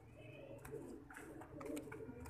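Pigeons coo nearby in soft repeated throaty calls, with some rustling and a faint voice in the background.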